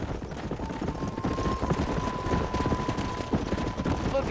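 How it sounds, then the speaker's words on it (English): Horses clip-clop steadily in the Western video game Red Dead Redemption (2010), a continuous rhythmic hoof patter on a ranch mixed with other game sound and a faint sustained tone. "Look at these here horses."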